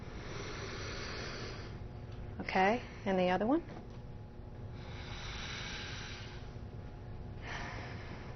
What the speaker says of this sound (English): take one finger and hold your nose one side and then take a deep sniff in